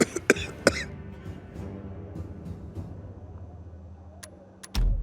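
A character in the video game Dying Light 2 coughs several times in a quick close burst at the start, followed by quieter ambient game sound and a few faint clicks.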